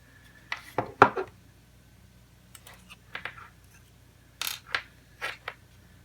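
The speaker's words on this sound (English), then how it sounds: "I'm going to get this screw out from down in the battery bay." Small clicks and light metallic taps come from working a screw out of the battery bay of a WLToys V303 Seeker RC quadcopter, in irregular bursts, close and quiet, with no speech.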